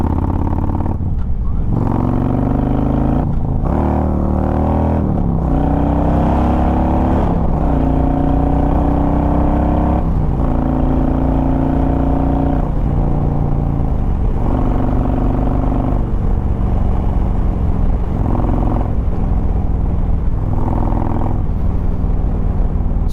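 Harley-Davidson motorcycle engine revving hard in anarchy ride mode, loud and close, with repeated throttle blips rising and falling in pitch over a steady rumbling idle.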